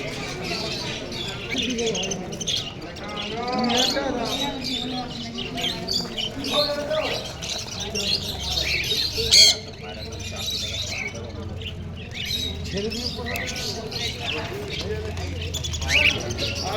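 Birds chirp and coo amid a busy animal and bird market where pigeons are sold, the calls scattered through steady crowd chatter and nearby talking.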